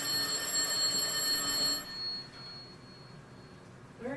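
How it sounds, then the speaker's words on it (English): An unexpected landline-style telephone rings loudly for a couple of seconds inside a mansion, then stops, leaving a quieter room. "There's a fucking phone on there that's not supposed to ring."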